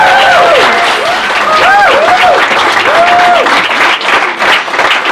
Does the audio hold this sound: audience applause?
yes